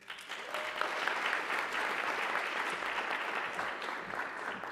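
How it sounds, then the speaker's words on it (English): An audience at a civic event gives a speaker a big round of applause, dense steady clapping from a sizable crowd that swells quickly and holds for several seconds. "So please give Megan McNally a big round of applause, the executive director of the Foundry."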